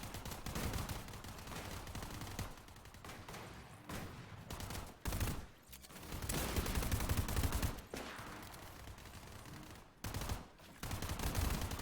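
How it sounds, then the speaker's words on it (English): Dense gunfire in a battle royale video game shooting match, with sustained bursts of rapid shots and overlapping volleys running almost continuously. Brief pauses break the firing now and then. "now we're shooting at people, trying to rotate."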